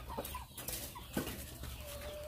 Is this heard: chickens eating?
yes